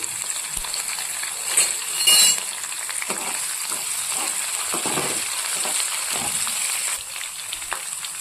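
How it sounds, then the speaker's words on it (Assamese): Cumin seeds, garlic and chilies fry in refined oil for a malai egg curry, making a steady close sizzle with light stirring scrapes and brief louder bursts, no voices. "অকণ ভাজি ল'ম।"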